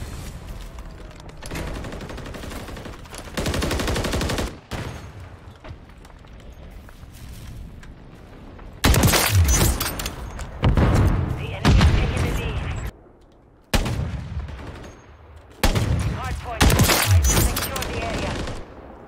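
Heavy sniper rifle shots boom in a Modern Warfare 3 snipers-only ranked match, several loud blasts in separate clusters with quieter stretches between, and a voice talking over parts of it.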